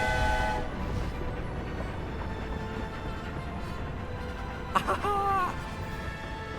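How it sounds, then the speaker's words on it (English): Hogwarts Express steam train in Hogwarts Legacy rumbling past as a steady rolling roar, with a brief whistle blast sounding near the end; no talk over it. "There's the Hogwarts Express."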